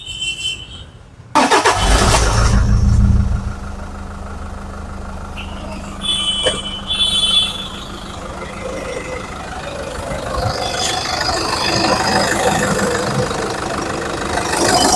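A Toyota Fortuner automatic engine cranks and catches with a loud burst, then settles into a steady low idle that continues evenly throughout, close by.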